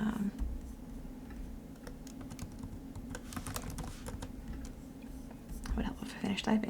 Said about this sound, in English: would help if I finish typing